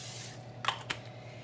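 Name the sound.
cooking spray sprayed onto vegetables on a pan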